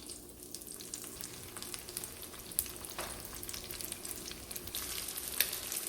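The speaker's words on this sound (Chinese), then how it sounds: "不用使劲煎，就是煎至两边呢都是有一点微微发硬就可以了。" Yuba coated in egg and starch frying in a pan, a close, continuous soft sizzle and crackle with a few louder pops, no voices.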